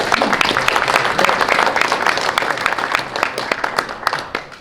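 A room of people at a motorsport track reunion gathering applauds the car men, brisk, close clapping with many distinct sharp hand strikes, loud at first and gradually thinning toward the end.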